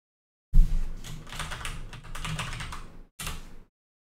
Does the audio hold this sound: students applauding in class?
no